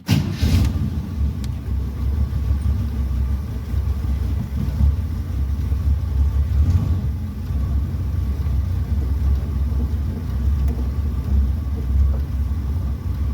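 A Model A Ford hot rod on a road test, its engine rumbling low and steady from inside the car with wind buffeting, continuous and fairly loud.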